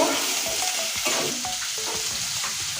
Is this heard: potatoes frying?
yes